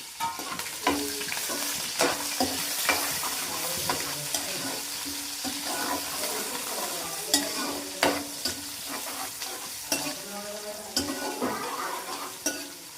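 Onions and mint fry and are stirred in a pan for chicken curry. A loud, close, continuous sizzle runs throughout, broken by repeated scraping strokes and occasional knocks of the spoon against the pan.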